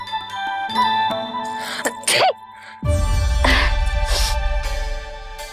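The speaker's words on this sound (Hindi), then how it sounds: "अभी छींक आई ना" Someone sneezes in a Shree Krishna devotional drama scene set in Yashoda's home. A sharp sneeze or throat-clearing burst stands out over a tinkling, chiming music bed, which then swells into a fuller, louder passage.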